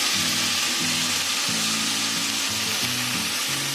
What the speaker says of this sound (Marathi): हे चांगलं हलवून घ्यायचं आपण.